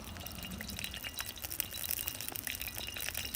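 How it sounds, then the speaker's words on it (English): Olive oil heating in a skillet outdoors in a forest while rain falls onto it, giving a faint, continuous crackle of sizzling and scattered droplets ticking on the hot pan. "you can hear that sizzling away already because of the rain falling on top"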